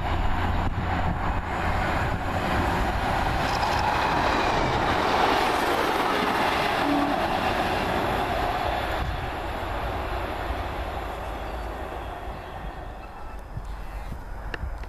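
A TransPennine Class 185 diesel unit runs past on a Blackpool North to Manchester Airport service, a close, continuous rumble of engine and wheels that fades gently near the end.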